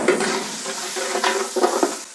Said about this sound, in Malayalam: ആ നടുഭാഗത്ത് ഊറി നിൽക്കുന്ന വെളിച്ചെണ്ണയിൽ നമ്മൾ ആ ഇഞ്ചി വെളുത്തുള്ളി പേസ്റ്റിനെ ഒന്ന് മൂപ്പിക്കണം.